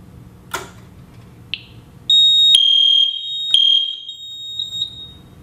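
A fire alarm horn strobe driven by an FX-5/FX-10 control panel sounds a loud, piercing, high electronic tone that runs steadily for about two seconds and then breaks into a few shorter chirps, preceded by faint clicks.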